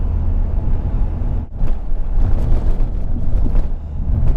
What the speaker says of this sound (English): As you can tell by some of the bumps I'm going over there, the ride isn't all that great.